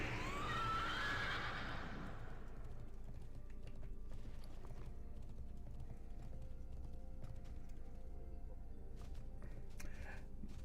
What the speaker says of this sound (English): Let me get my horse up.